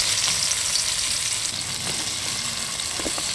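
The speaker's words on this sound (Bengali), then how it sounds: "দেখুন মাছগুলো আমার সব ভাজা হয়ে গেছে পেঁয়াজ দিয়ে দিলাম" Onions fry in a pan alongside already-fried rupchanda fish for a kalia curry, producing a constant close sizzle with faint stirring touches and no talking.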